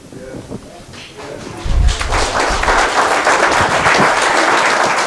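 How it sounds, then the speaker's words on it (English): At a political election speech, an audience breaks into loud applause after a brief spoken voice; the dense clapping swells quickly and holds steady through the rest of the clip. "But clap is good."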